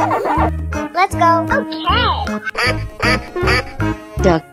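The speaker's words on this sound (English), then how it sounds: "Duck." A cartoonish duck quacks loudly in a game escape-room challenge, several nasal quacks in a row mixed with bright animal-sound effects.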